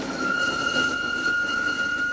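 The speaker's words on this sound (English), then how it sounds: "The Snowdon Mountain Railway huffs and puffs its way to the summit" The Snowdon Mountain Railway, a train climbing a steep mountain line in Wales, giving a steady rumbling rail drone with a thin sustained squeal of wheels on track, fairly close and continuous, with no speech.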